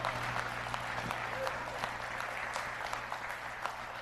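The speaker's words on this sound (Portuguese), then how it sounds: "Você pode aplaudir ao Senhor" A church congregation applauds during worship, loud continuous clapping from many hands over a low steady hum, with faint voices mixed in.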